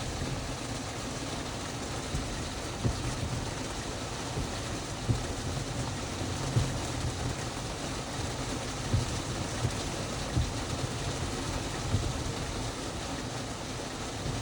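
Rain heard from inside a car during a drive, a steady hiss of drops and road noise with a low engine or cabin hum throughout, no talking.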